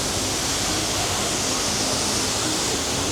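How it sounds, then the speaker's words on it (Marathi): Kempty Falls, a waterfall near Mussoorie, pours as a dense, steady hiss of rushing water, loud and continuous, with no voices. "हा असा काही धबधबा आहे इथे."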